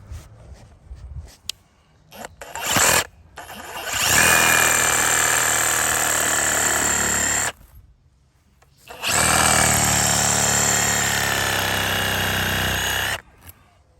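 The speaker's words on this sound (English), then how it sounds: "We'll go after this with the reciprocating saw." A reciprocating saw cuts through a tree root buried in yard dirt, running in two loud sustained bursts of harsh buzzing with a pause between, after a few short starts.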